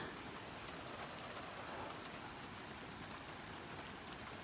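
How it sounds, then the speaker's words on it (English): Steady rain falls outdoors in a rainforest, a continuous dense hiss of drops with no breaks, fairly quiet and even throughout, with no voices. "It's always freaking raining out here."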